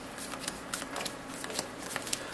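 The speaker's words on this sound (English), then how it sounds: "we have to shuffle these really well because we played with them" A deck of Magic: The Gathering cards riffled and shuffled up close, giving a steady papery crackle with repeated sharp flicks, and no one talking.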